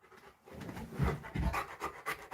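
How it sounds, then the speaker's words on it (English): A dog pants steadily and rapidly close by, the breathy huffs rising and falling in quick rhythmic bursts with no talk over them. "with that panting that he does constantly and pacing around me"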